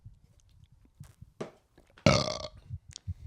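A single loud, drawn-out burp rasps out close to the microphone after a few faint taps and rustles, with quiet breathing and small noises around it.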